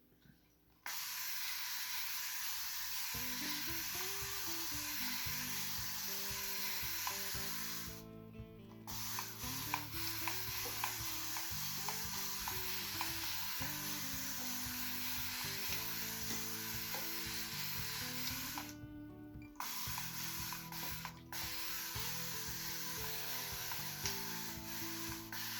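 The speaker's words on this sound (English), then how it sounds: "it still does spray out water even if you don't hold it." A Xiaomi Geometry 8L smart aquarium sprays out water in a steady, close hiss that runs on with short breaks, over soft background music.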